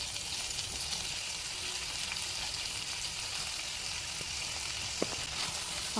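Carrot and potato pieces fry in a curry pan over a medium flame, giving a steady close sizzle and crackle with a few faint scraping stirs.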